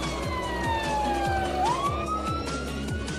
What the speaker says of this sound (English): We have put the siren on.